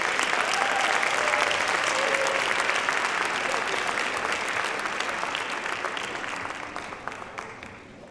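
A large audience at an MLK Dream Showcase event bursts into sustained applause that stays loud and even and then slowly fades toward the end.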